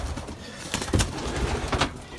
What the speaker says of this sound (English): So this is one of the pigeons I got.